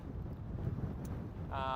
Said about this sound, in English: along with these strong gusting winds